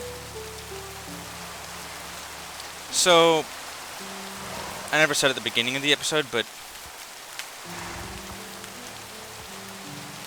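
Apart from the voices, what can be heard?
rain falling in a video game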